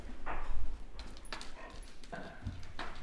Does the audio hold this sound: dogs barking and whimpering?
yes